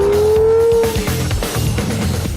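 A Pagani Zonda F sports car on the move, heard from inside the cabin, with a rising engine note that cuts off and gives way to rough, bumpy road and engine rumble.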